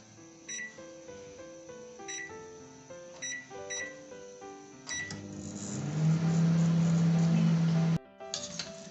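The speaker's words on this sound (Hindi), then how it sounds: "मैं इसको 2 मिनट के लिए माइक्रोवेव ओवन लगाऊंगी।" A microwave oven's keypad beeps several times, then the oven hums steadily as it runs while making khoya from milk powder, before stopping with a click, followed by more beeps.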